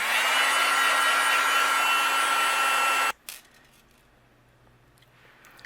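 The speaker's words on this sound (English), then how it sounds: "I'm going to use my heat gun and we'll melt all of these." A heat gun blows a loud, steady whooshing hum while melting embossing powder on a papercraft card. It runs alone for about three seconds, then cuts off abruptly into near silence.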